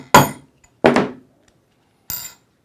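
Three sharp metallic hammer strikes drive a snap setter down onto a stud to set a snap, close and loud, with uneven pauses between blows and short ringing tails.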